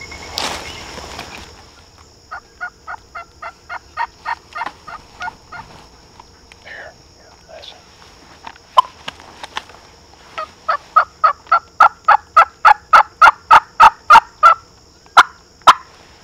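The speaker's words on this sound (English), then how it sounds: "heard a turkey gobble way off over here" A wild turkey in South Florida during spring hunting season gives repeated loud, rapid-fire bursts of calls that grow into a fast rhythmic series with brief pauses, set against a quiet outdoor background.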